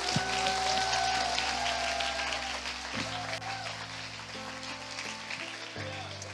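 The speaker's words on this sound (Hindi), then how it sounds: "क्या हम यीशु के लिए ताली बजा सकते हैं?" A church congregation applauds for Jesus during a Hindi worship service, steady hand clapping over sustained keyboard chords, moderately distant and continuing throughout.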